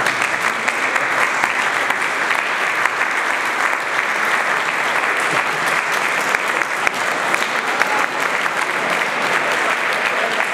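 Steady, dense applause from an indoor audience at a seminary celebration fills the room without pause as a cake is wheeled in.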